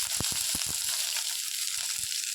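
Finely chopped onions frying in hot oil with curry leaves for a seafood dish: a steady bright sizzle with a few soft thumps of stirring near the start and again near the end, close and without voices.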